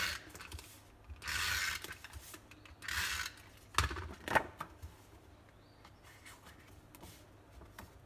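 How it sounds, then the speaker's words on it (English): Snail adhesive tape runner pressed onto a card base for a birthday card, giving two soft rasping rolls followed by sharp clicks and small mechanical ratcheting, quiet and close. "let's just take some snail adhesive and attach that"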